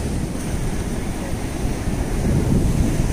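Sea surf rolls onto a clean beach in Udupi district on the Karnataka coast: a continuous low roar of breaking waves, steady and close, with gusty wind buffeting the microphone.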